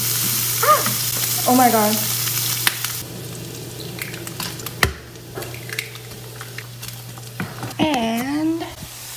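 Food frying in a hot pan, a strong sizzle running under a woman's startled exclamations and talk, with occasional sharp clicks and spatters close by.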